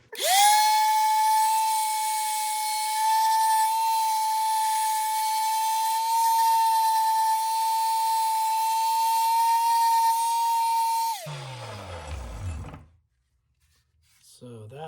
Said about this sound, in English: So I'll give that a shot with the palm sander.